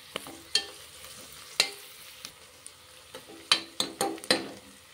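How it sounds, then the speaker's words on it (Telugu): Curry leaves and slit green chillies sizzle in hot oil, a quiet steady hiss punctuated by about ten sharp crackles and spatters spread unevenly, with no talk. "రెండు కరివేపాకు రెమ్మలు, అలాగే 3-4 పచ్చిమిర్చి సిరుకులు కోసుకొని వేసుకోవాలి."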